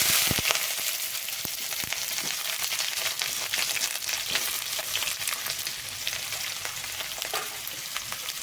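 Onions fry in hot oil with popped mustard seeds, giving a steady, bright sizzle peppered with small crackling pops, heard close and continuous with no talking.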